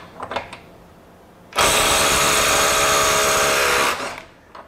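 After a few light handling clicks, a Ryobi HP compact 3/8-inch 18-volt One+ impact wrench fires in one loud, close, sustained burst of hammering whine for about two seconds, then stops.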